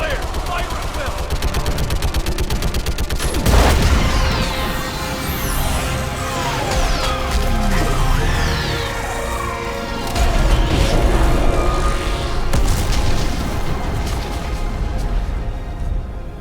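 In Mass Effect 3, during the Quarian and Geth war summit, an orbital strike pounds a live Reaper: heavy gunfire and explosions crash in bursts over sustained battle roar, loud and close, with voices talking through the chaos.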